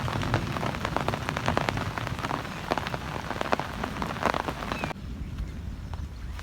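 Heavy, continuous rain drums steadily on surfaces outdoors during a prolonged storm in Punjab, a dense unbroken hiss with scattered sharper drop impacts throughout and no voices.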